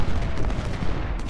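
Cannon fire rumbles in the Civil War strategy game Ultimate General: Civil War during a Union battle at the Georgia Railroad. Loud, dense booming overlaps into a continuous heavy barrage that lasts about a second.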